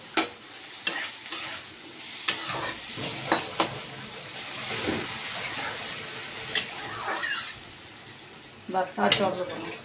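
Rice being cooked in a pan with water poured in, stirred with soft scraping strokes and short clinks over a steady low sizzle and hiss, fairly close; no talking is heard.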